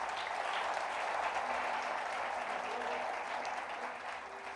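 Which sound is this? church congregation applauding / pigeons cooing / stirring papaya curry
church congregation applauding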